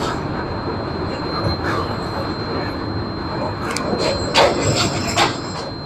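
A passenger train crosses the Atrai bridge in Bangladesh on the Natore to Hili run, with a steady close rumble, a thin sustained wheel squeal, and a few sharper clanks toward the end.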